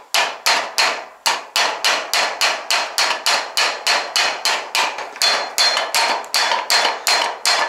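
Close, loud hammer blows drive a steel roller frame part into its groove, landing in a steady rhythm of roughly two to three hits per second, each a sharp ringing strike.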